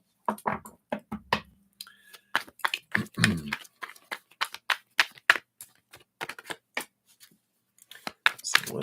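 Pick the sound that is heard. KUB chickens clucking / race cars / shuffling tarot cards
shuffling tarot cards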